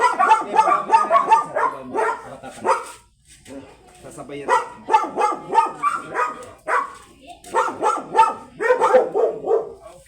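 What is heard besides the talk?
dog barking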